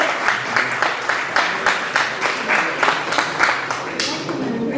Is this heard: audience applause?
yes